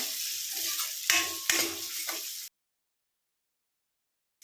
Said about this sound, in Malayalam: ഇഞ്ചി നന്നായിട്ട് ഇളക്കി കൊടുക്കുക